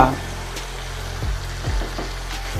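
Tamarind gojju for puliyogare simmers in a pan, a low steady bubbling sizzle with a few soft thuds and pops as it cooks.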